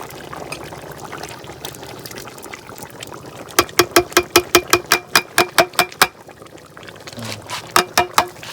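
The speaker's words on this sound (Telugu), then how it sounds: "ఇందులో వాటర్ పోసి దంచి పెట్టుకున్న కారం" Water is poured into a pot of chicken and masala, glugging close and loud in a rapid, even series of pulses, then a pause and a short final burst.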